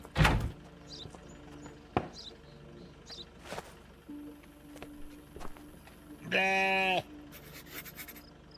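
One loud, drawn-out goat bleat from a video game stands out amid scattered clicks, taps and thumps in a quiet setting.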